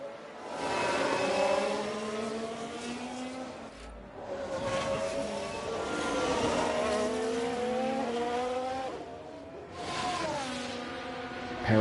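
Formula 1 race cars roar past in F1 Manager 23 at Yas Marina, several high-pitched engine whines sweeping up and down in pitch as they pass one after another, loud and continuous with brief gaps between cars.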